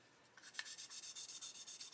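Worn 600 grit sandpaper rubs over a hobby model surface in quick, even back-and-forth strokes, a soft rhythmic rasp repeating about a dozen times, close and quiet with no talking.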